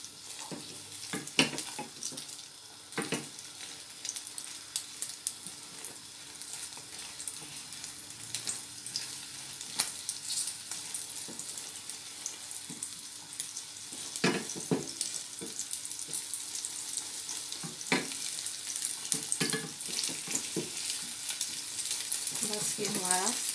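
Egg cooking in a pan for Peshawari chapli kebab, a steady close sizzle running throughout with scattered clinks and scrapes of a utensil, no talking.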